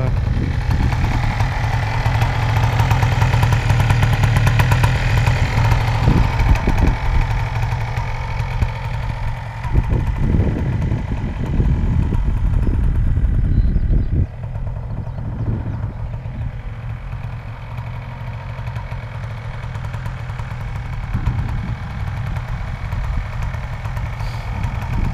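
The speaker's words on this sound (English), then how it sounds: "Look at that! Motor's warming up" A motorcycle engine idles steadily while warming up at sunrise on the Isle of Sheppey, a continuous low rumbling drone close by with a slight drop in level partway through and no talk.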